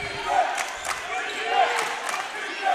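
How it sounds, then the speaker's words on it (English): A loud crowd roars and shouts at a high school basketball game, a continuous wash of cheering that swells and dips, with occasional ball bounces and sneaker squeaks beneath it. "The crowd is loud here tonight."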